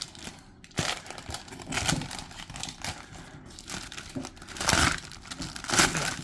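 Tape and packaging being pulled and crinkled off a boxed Amagi Heavy Armament figure with hard plastic corner protectors, a close run of crackling, tearing rustles in uneven bursts with no talking.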